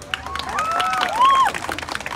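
A crowd at an outdoor clown show in Bosque de Chapultepec claps and cheers in a short burst, peaking briefly with shouts and whistling voices over the applause.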